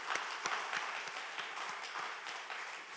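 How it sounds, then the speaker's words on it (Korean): A church congregation applauds during a Sunday morning service, steady dense clapping with a few sharper individual claps standing out, sustained throughout and fairly quiet overall. "우리 하나님께 영광의 박수 한번 하고"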